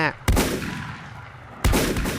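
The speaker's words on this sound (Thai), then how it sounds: "อะไรยิงมา โอ้ป้อมปืนเนี่ย" Turret gunfire in the video game Volcanoids: two sharp, loud bursts of shots about a second and a half apart, each trailing into a rumbling echo over steady in-game background noise.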